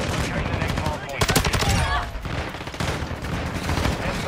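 Rapid automatic STB 556 rifle fire in Modern Warfare 2 comes in loud, dense bursts with brief gaps, and a player talks over the shooting.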